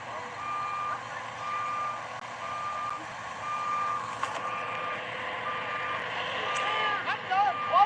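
A mulch delivery truck's reversing alarm sounds as a steady series of evenly spaced beeps over low engine rumble outdoors, with people shouting nearby toward the end.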